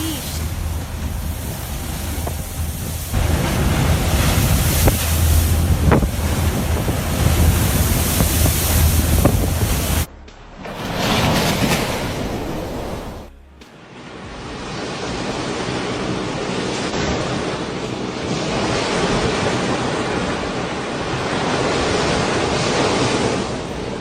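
Heavy surf crashes and roars with strong wind buffeting the microphone, a loud broadband rush that surges, briefly drops out, then returns steady and powerful.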